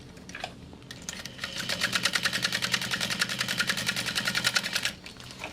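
A sewing machine stitches a fabric baby sling in a steady, rapid needle rhythm, starting after a brief pause and running continuously at close range before stopping near the end.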